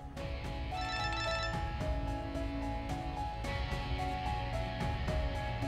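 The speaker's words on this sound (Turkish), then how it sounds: "Yurt dışından telefon geldi." A telephone rings with a repeating electronic ringtone, bursts of tones recurring steadily over a busy background of music and ambient noise, with no talk.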